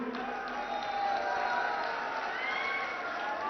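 A political rally crowd in Amethi, Uttar Pradesh, cheering and clapping in a dense, continuous wash of distant noise with no single voice standing out.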